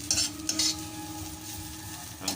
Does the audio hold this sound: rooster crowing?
no